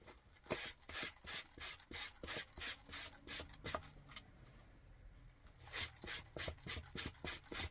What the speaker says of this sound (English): I filed the bottom of the hat as well.